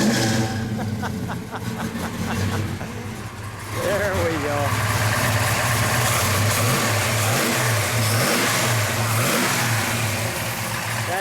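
A 1965 Chevrolet Malibu SS engine idles low in a garage, then revs up in a few rising bursts before settling into a steady rumbling idle, with someone speaking briefly over it.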